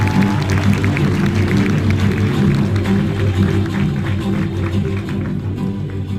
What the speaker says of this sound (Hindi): अमित जी भारद्वाज स्टेज पे आए, तालियां जबरदस्त बजनी चाहिए